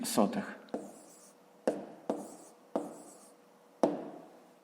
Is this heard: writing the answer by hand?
yes